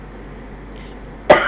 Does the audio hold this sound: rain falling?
no